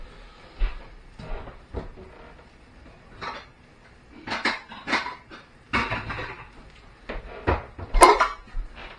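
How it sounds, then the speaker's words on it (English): A second cooking pan being taken out in a home kitchen, with scattered clanks and knocks of pots, cupboard thuds and rattling cookware at close range, irregular bursts between quiet gaps, no talk. "I'm going to get a second pan out and leave this simmering while I crack on with the next bit."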